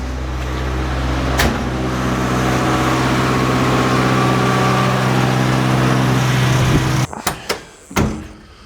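A 1988 Suzuki Samurai engine idles loud and close with a steady low rumble, then cuts off abruptly near the end, followed by a few sharp knocks and clunks.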